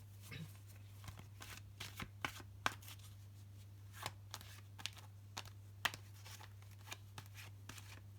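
Tarot cards being shuffled by hand, a steady run of soft riffling snaps and taps spread across the whole stretch, quiet and close over a constant low electrical hum, with no talking.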